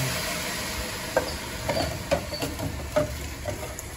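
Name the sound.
stirring and sautéing basmati rice with onions in pan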